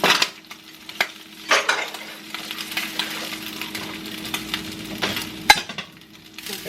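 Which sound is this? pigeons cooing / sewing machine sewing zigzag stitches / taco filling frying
taco filling frying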